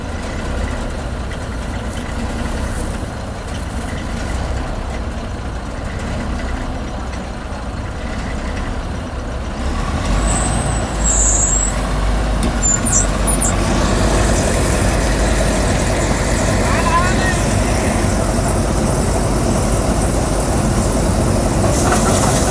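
A combine harvester's heavy engine runs steadily during rice harvest, a low mechanical drone that grows louder and fuller about halfway through, with faint squeaks above it.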